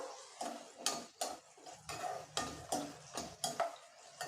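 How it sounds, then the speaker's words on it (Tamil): Shallots and garlic are sautéed and stirred in a pan for a spicy country-chicken curry, with rhythmic spatula scrapes about every half second over a soft sizzle, close and without talk. "இப்போ இது எல்லாத்தையும் நல்லா வதக்கி விட்டுறலாம்"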